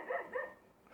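A dog gives two quick, fairly close barks in a row, then falls quiet; no talking.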